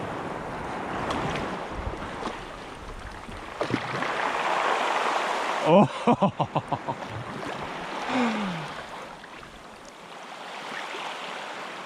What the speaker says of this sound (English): I like when a couple of rocks get dragged down as well